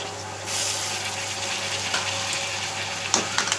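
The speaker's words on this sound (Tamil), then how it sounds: "நல்லா போட்டு நல்லா வதக்கி விடுவோம்." Chopped tomato and green chili sauté in an oiled pan, giving a steady soft sizzle with a brief stirring clatter near the end, close and unaccompanied by talk.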